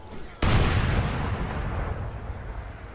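A grenade blast in the video game Crackdown bursts out suddenly and loud, then a dense rumbling roar slowly fades over the next few seconds.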